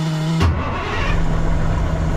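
A cabover truck engine cranks with a sharp burst, then fires up and settles into a loud, steady rumbling idle close by.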